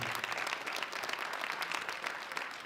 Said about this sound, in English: please join me in giving our competitors a round of applause